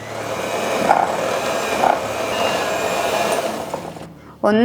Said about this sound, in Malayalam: എന്നിട്ട് ഇത് രണ്ടും കൂടെ നമ്മളൊന്ന് നന്നായിട്ട് മിക്സ് ചെയ്യണം.